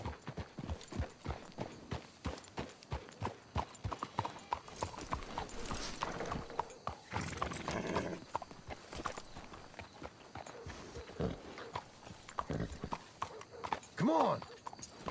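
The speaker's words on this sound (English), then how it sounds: "Let's hitch your horses up ahead." Horse hooves clip-clopping in Red Dead Redemption 2, a steady rhythmic walking beat that runs through the clip with a brief whinny near the end, with talk over parts of it.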